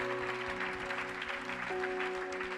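A church congregation claps in a steady, even patter that carries throughout, with sustained musical tones running beneath it at a moderate level.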